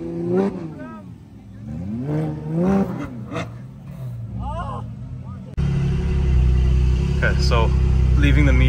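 A Porsche 718 Cayman GT4 leaves a car meet, its engine revving in several rising and falling bursts before settling into a louder steady drive-away roar, while people talk nearby.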